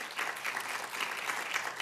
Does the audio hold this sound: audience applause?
yes